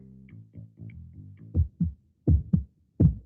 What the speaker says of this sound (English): This is the sound of a healthy heart.